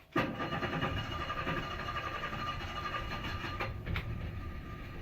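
A tiny houseboat's engine cranks and catches, then settles into a steady, moderately loud running rumble with a couple of brief bumps near the end.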